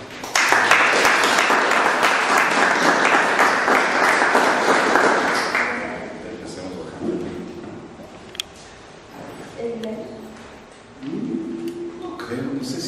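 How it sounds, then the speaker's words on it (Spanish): An audience claps loudly for a doctor at a Chimbos del Ecuador gathering, a dense burst lasting about six seconds. Then it dies away into scattered knocks and room noise, with voices talking. "le damos un fuerte aplauso al doctor"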